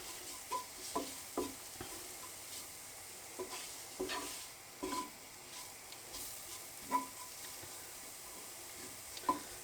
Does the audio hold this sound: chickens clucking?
no